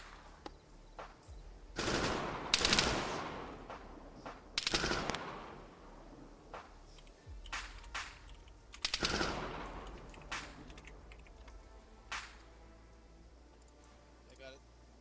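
Video game machine-gun fire suppresses a building in a military shooter, with loud bursts and scattered shots, some near and some distant. Voices talk over the gunfire.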